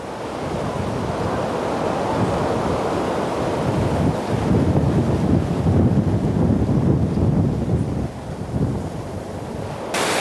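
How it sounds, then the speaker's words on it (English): Surf washes onto a natural Caribbean beach near Nelson's Dockyard in Antigua, a steady loud rushing roar of breaking waves with wind buffeting the microphone, swelling and easing without talk. "If you're looking for a natural Caribbean beach, take the trip to Nelson's Dockyard and walk here."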